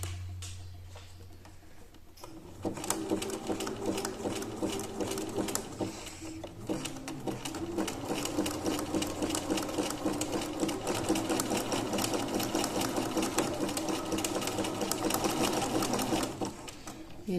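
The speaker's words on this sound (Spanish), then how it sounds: "Vamos a poner el número 2 de zigzag y vamos a coser y hacer puntadas para adelante" A sewing machine runs close by, zigzag stitching forward and backward to sew an elastic waistband onto a skirt, with a brief quiet start, then a steady fast mechanical patter that stops near the end.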